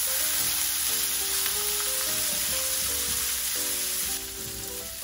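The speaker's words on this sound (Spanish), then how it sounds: "vamos a llevar la pasta directamente al sartén" Cooked pasta meets a hot frying pan for carbonara, giving a steady bright sizzle heard close, with a tonal hum running beneath; the level drops slightly near the end.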